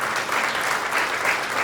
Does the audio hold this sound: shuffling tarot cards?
no